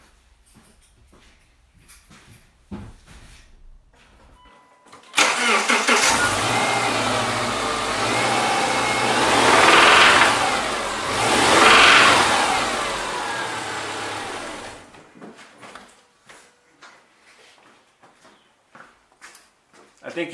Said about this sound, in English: I'm going to turn on the engine and let you hear what the spun bearing sounds like.